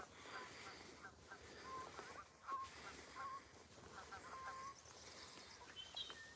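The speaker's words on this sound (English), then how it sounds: "Crazy birds." Birds call repeatedly at close range outdoors, short honk-like and whistled notes over a steady hiss of background noise, with some talking mixed in.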